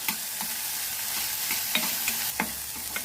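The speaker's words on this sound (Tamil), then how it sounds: "இதை நல்லா வதக்கிடலாம்" Crushed garlic and chopped onion sautéing in oil in a pan, a constant close sizzle with a few spatula scrapes at irregular intervals and no voices.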